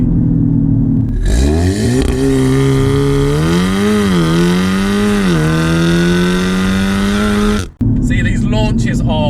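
A tuned 420bhp Audi S3 makes a brutal launch, its engine roaring loud and close with pitch climbing steadily through the gears. The roar drops out sharply near the end, then picks up again.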